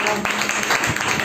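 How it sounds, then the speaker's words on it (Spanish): A church congregation applauds, a brief, dense wash of clapping that fills the space, with a voice speaking over it. "den un aplauso fuerte al que vive"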